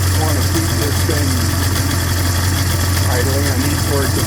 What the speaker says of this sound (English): you can see my idle rate now is pretty high because the track is actually spinning at idle